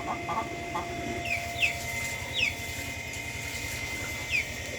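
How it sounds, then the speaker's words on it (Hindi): Chickens, ducks and a rooster in a village yard, with a faint low drone and scattered soft clucks and short chirps recurring every second or so. "ये साढ़े मुर्गियाँ, ये साढ़े मुर्गाबियाँ, ये साढ़ा मुर्गा माशाल्लाह।"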